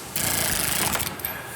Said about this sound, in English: then we can use our power tool to run them down